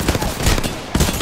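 Rapid bursts of gunfire in the video game Apex Legends, loud and close, with a sharp burst near the end and no talk over it.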